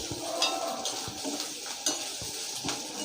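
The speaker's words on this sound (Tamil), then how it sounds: "வச்சுருக்கிற வெங்காயத்தை இதில் போட்டு வதக்கிடுது" Onions sauté in a pan for egg Manchurian, a low sizzle broken by repeated scraping and clinking of a spoon stirring against the pan, close and unaccompanied by speech.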